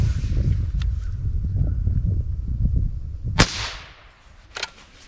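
A .22 LR rifle firing Federal Punch or CCI Stinger rounds over a chronograph gives one sharp crack followed by a second fainter snap, after a stretch of low rumbling outdoor noise.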